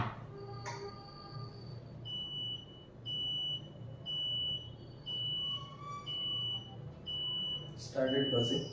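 A homemade ESP8266 and NRF24L01 wireless door sensor alarm sounds a series of short repeated buzzer beeps, about one per second, over steady room hum, with a louder clatter of the door at the end.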